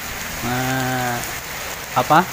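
Steady rain falls throughout with a constant broadband hiss, while a sustained sung or hummed tone rises over it and a brief burst of voices follows near the end.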